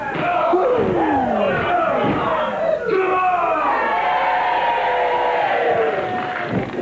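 Loud British wrestling crowd roaring and cheering in an echoing auditorium, a dense continuous wall of shouting voices with rising whoops and yells throughout, close and full.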